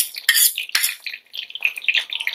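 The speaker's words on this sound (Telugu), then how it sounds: "ఇది మెత్తగా ఇలా అయ్యే వరకు దగ్గర పడే వరకు ఇలా తిప్పుకోవాలి" A ladle scrapes and clinks against a pot while stirring a besan laddu mixture flavored with cardamom powder, with a string of close, irregular metallic scrapes and taps and no talking.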